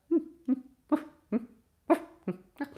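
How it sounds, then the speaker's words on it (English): A sleeping dog whimpers and yelps while its legs paddle as if running in a nightmare, giving seven short nasal whines in an uneven rhythm, close and fairly quiet, with no talk over them. "Helen, dog's having a nightmare and running in his sleep."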